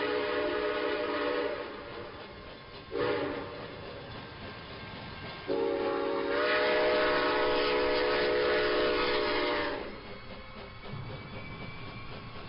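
A train horn blares in several long, loud blasts separated by short pauses, over a steady rumbling rail noise.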